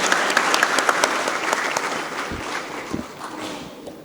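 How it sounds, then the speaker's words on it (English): Conference audience applauding a panel of four speakers at the close of a session on India's digital economy, a steady dense round of clapping that slowly tapers off over four seconds with no talk. "A round of applause for these four fantastic speakers"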